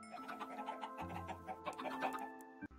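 Chickens in the Minecraft video game cluck in a quick run of short repeated calls, close and fairly quiet, ending with a brief thump.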